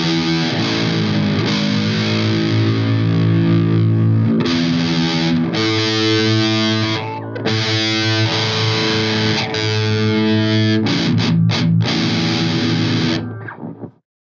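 Heavily distorted seven-string electric guitar playing a death metal riff: loud, dense chugging and sustained chords with short pauses, alone and without voices, ending in a quick fade.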